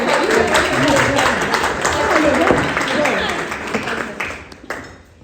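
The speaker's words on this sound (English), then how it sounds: "can we have applause for each other?" A room full of people applauding one another at a Givaudan perfume event in Paris, dense clapping that fades toward the end with voices mixed in.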